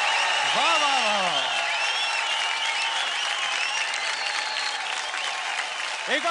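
Studio audience on a televised dance competition bursts into sustained, loud applause and cheering, with a whistle-like tone sweeping over the crowd noise early on and again at the end.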